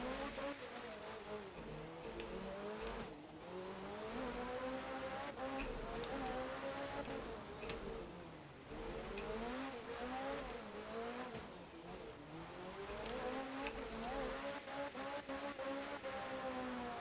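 Rally car from art of rally driving a Group S stage in Indonesia in the rain with almost no grip, engine droning steadily with rising and falling revs throughout, continuous and close, no talk over it.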